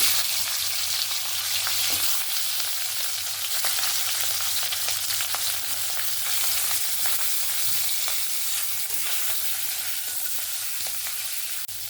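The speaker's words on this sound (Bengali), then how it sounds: "মাছের মাথাটা সুন্দর করে লাল লাল করে ভেজে নিয়েছি" Fish heads fry in hot oil in a wok, giving a steady, close, continuous sizzle and crackle with faint stirring clicks throughout, and no talking.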